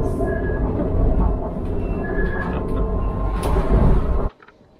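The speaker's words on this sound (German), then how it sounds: "Da vorne fährt unsere versüffte Straßenbahn, wo wir da jetzt einsteigen werden." A tram rolls up to a stop on a city street, its loud low rumble and rattling wheels building close by, with a brief squeal, then cutting off abruptly near the end.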